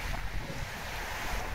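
Rough sea surf washes and rumbles steadily in the distance, mixed with gusty wind buffeting the microphone.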